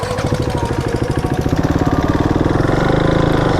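A 2015 KTM RC 390 BS3 motorcycle engine runs loud and close, its single-cylinder pulses firing in a steady rapid beat that quickens and rises in pitch as revs build, with no talk over it.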